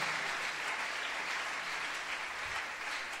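A church congregation at a prayer convention breaks into sustained applause and acclamation, a dense, steady wash of clapping from many hands filling the room without pause.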